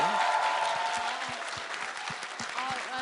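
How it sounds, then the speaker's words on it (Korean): Audience applause at a Korean talk event, a steady wash of clapping from a crowd with a voice speaking faintly over it. "다시 한번 큰 박수 부탁드립니다"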